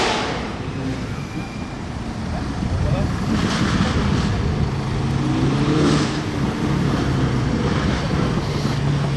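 A Ferrari 812 supercar fitted with a Novitec exhaust passes on a street in Juan-les-Pins, its engine note building loud and close with a rising growl amid wind buffeting and crowd chatter.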